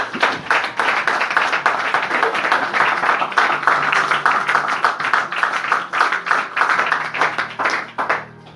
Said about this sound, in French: Acclame-moi très fort.